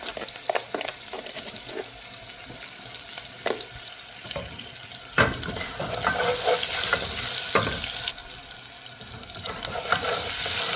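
Garlic fries in a pan with a steady, hissing sizzle throughout, broken by scattered clicks and scrapes as it is stirred around. The sizzle grows brighter toward the end, and no one speaks.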